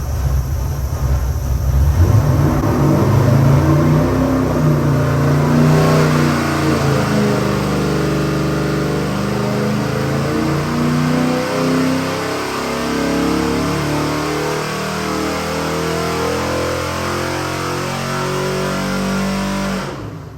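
A 427-cubic-inch Ford Windsor 351-based stroker crate engine on a dyno revs hard and holds a loud, steady high-rpm roar for about twenty seconds, pulled toward 5,800 rpm, with no talking.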